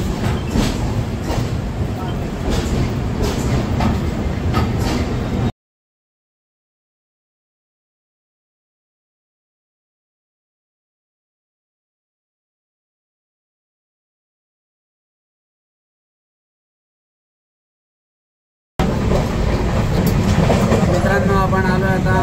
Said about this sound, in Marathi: रेल्वे आली आता आपली.